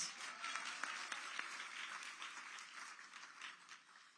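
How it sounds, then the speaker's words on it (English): Audience clapping fills a hall with a steady patter of many hands, moderately loud and tapering slightly toward the end. "you can clap for that"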